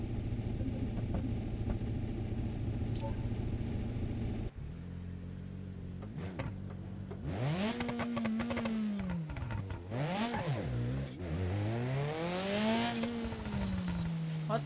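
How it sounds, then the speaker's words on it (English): Loud car engine in a video game driving sim played with a steering wheel, droning steadily, then revving up and down in repeated sweeping pitch swells as the car shifts gears, with a voice talking over it. "annoyingly loud car"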